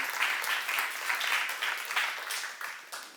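A church congregation bursts into steady, lively applause during a sermon seminar, many hands clapping together in a dense roar that swells and eases in waves, with no voices over it.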